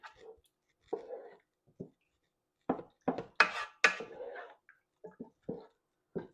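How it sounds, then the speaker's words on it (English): A spoon stirs cabbage soup with V8 tomato or vegetable juice in a pot, making scattered light scrapes and clinks against the pot in irregular bursts, fairly close and quiet. "Give it a stir."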